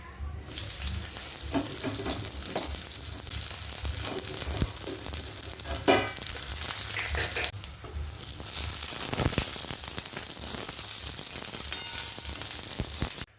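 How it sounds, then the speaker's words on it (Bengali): Green peas and eggplant fry in oil in a wok, giving a steady, close sizzle that runs throughout with brief clatters and stirring sounds, and no talking. "কড়াইশুটি আর বেগুনটাকে এত সুন্দর করে ভাজা হয়েছে"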